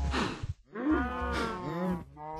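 A baby cow in the Minecraft video game moos in a couple of clear, close calls, with no talk over them.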